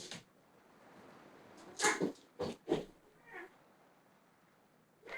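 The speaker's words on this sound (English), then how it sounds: "With a very, very crazy cat in the background." A cat meows and yowls several times in the background, loud bursts around the middle then quieter calls, with no talk over it.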